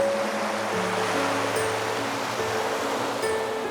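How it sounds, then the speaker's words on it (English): Large ocean waves breaking on an empty beach in West Maui, a steady broad surf roar at moderate level with no distinct individual crashes and no voices. "filled with the sound of the large waves breaking on the empty beach"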